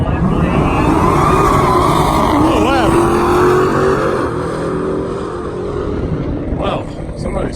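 Dodge Demon SRT Hellcat and McLaren 720S at a drag strip, loud continuous engine roar with a rising revving sweep midway, while a commentator talks over the racing noise.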